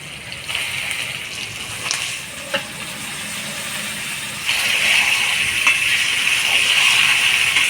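Meat tipped into a hot pot of spices with turmeric and salt for a local goat curry, a steady loud sizzle and hiss with a few small knocks, the frying swelling louder partway through.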